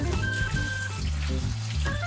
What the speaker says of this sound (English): you want to rinse the beans